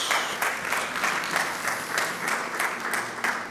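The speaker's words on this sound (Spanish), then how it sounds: "Dale ese fuerte aplauso a Dios" Loud applause from a Spanish-speaking church congregation on its feet, a steady wash of many hands clapping with rhythmic pulses running through it.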